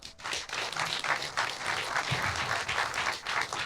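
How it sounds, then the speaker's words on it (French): An audience applauds for speaker Raphaël Vincent at a health talk, a steady broadband wash of clapping that holds loud and full for several seconds with no voices over it. "Applaudissez Raphaël Vincent."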